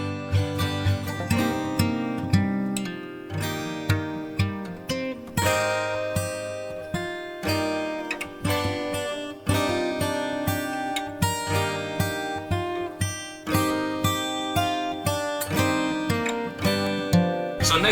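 Layered guitars with reverb fill a country rap beat, playing dense, rhythmic plucked chords and runs that ring into one another, steady and close throughout.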